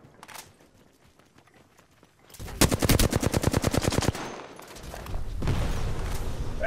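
Rapid automatic gunfire in Apex Legends, a loud close burst of evenly spaced shots lasting about a second and a half, followed by further scattered firing and battle noise.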